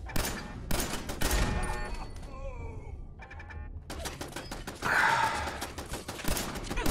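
A robot lab assistant shooting in the video game Fallout 4, bursts of rapid gunfire broken by a short lull with electronic whirring tones, fairly close and loud.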